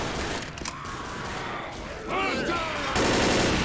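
Video game Left 4 Dead gunfire, a series of sharp shots and mechanical weapon clatter mixed with in-game noise, moderately loud, with a voice speaking briefly over it.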